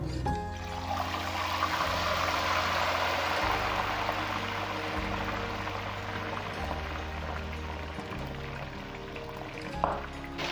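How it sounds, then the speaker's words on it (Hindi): Chicken fries in hot oil for Arabian mandi, giving a steady, fairly quiet sizzling hiss over a low, pulsing hum, with no voices. "तो यहाँ चिकन फ्राई हो रहा है।"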